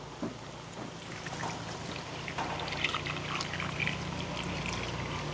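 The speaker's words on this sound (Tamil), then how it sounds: "அளவாக நாங்கள் தண்ணி சேர்ப்போம்" Water pours steadily into a cooking pot with a soft, continuous splashing trickle, close by and fairly quiet.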